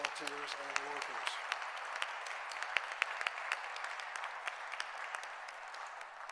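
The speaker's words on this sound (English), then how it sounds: "Let's give a round of applause to all the volunteers and workers." Audience applause for volunteers and workers at a food depository celebration, steady dense clapping throughout, with a brief voice heard under it at the start.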